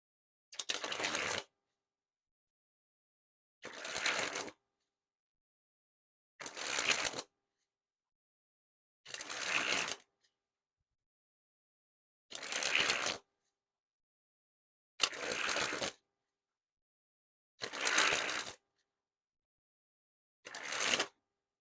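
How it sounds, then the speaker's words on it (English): A Theory11 Fox Bar playing card deck is sprung repeatedly, eight short fluttering riffles about every two and a half seconds, each followed by silence, close and crisp. "And now that we took a look at the cards, time to test the handling. And first we'll start with the springs."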